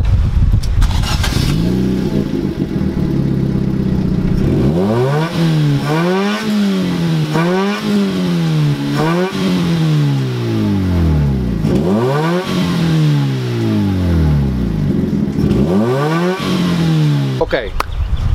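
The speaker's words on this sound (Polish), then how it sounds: "pokażesz na filmiku jak chodzi? Przygazujesz trochę?" A Fiat Seicento engine idles, then revs up repeatedly in rising and falling bursts, loud and close, with a brief voice near the start.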